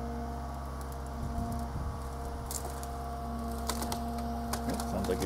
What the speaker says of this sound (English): Sounds like he's doing some more tearing.